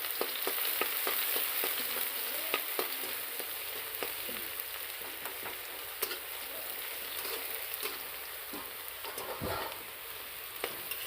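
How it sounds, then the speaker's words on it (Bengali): Onion and garlic sizzle steadily in hot oil in a pan for chowmein, a dense continuous crackle with scattered sharper pops and spatters, close and fairly loud with no talking. "পেঁয়াজ রসুনটা ছেড়ে দিয়েছি তেলে।"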